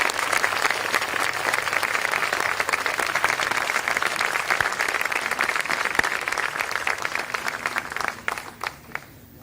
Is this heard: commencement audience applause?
yes